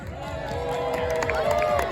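Audience at a Thanksgiving costume contest cheering vocally for an entrant: a dense mix of shouts and whoops from a crowd, fairly loud and continuous, with voices overlapping.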